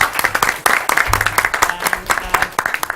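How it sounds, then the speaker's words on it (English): An audience at an economics panel discussion gives brief, fairly sparse applause, with individual claps clearly separated in a quick, uneven patter. "So please give her a big applause."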